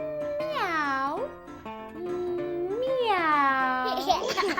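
A person's voice imitates a cat meowing, producing two long drawn-out meows with rising and falling pitch, close and clear, as part of a children's Spanish lesson.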